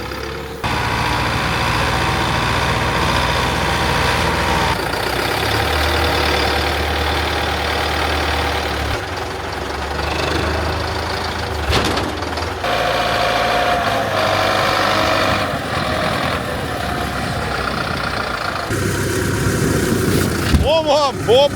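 A farm tractor pulling a heavy load of about 150 round bales runs steadily nearby, a continuous low diesel drone with shifts in pitch and load and a few knocks and rattles.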